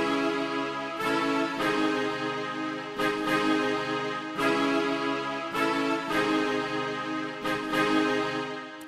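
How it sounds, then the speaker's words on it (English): A brass patch from The Arsnal Kontakt library plays punchy, stacked brass chord hits in a steady repeating rhythm. The chords are loud, dense and bright, and there is no voice. "another brass sound."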